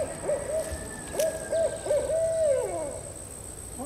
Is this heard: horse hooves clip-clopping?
no